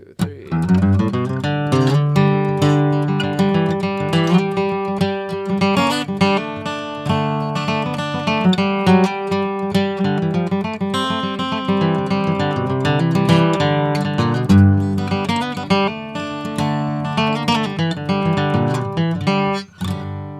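Flatpicked acoustic guitar playing a bluegrass break, bright picked melody notes over strummed chords at a brisk even pace, close and loud, with no talking.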